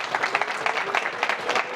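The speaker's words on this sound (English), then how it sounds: "round of applause" An audience at a door-to-door sales keynote gives a short round of applause, a steady patter of many hands clapping at moderate volume.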